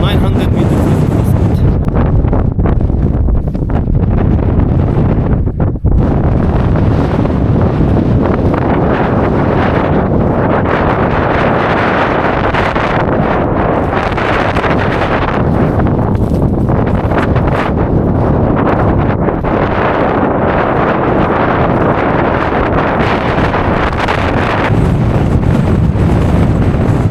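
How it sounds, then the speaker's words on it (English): Extreme wind roars continuously at a mountain shelter spot during a solo winter ascent of Mulhacen, around 2,500 meters. The gusting blast is loud and unbroken, buffeting the microphone throughout. "Taking a break and sheltering from the extreme wind."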